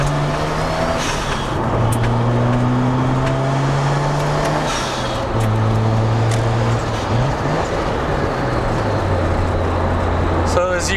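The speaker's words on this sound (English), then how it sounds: "So as you can tell, kicks up through the RPMs real quick." A Mazda RX-7 engine revs up through its range in several rising and falling pulls, a loud, close droning tone that climbs and drops repeatedly while someone talks over it.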